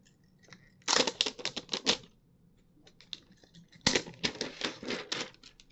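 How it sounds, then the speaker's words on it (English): Protective film being peeled off a Kinect for Windows v2 sensor: two bursts of crisp, crackling tearing sound, each lasting about a second, close and fairly loud, with quiet pauses between. "let's go ahead and do this new electronic peel off thing."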